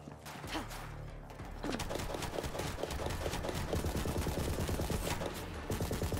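A dubstep gun fires rapidly in the video game Borderlands 3, producing dense rhythmic electronic bursts that grow louder and continue throughout over the game's background sound.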